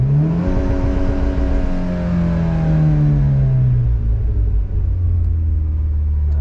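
A Mitsubishi Lancer Evolution X revs up on two-step launch control, its engine note climbing and then falling to a held, loud, rumbling drone at close range, with no talking.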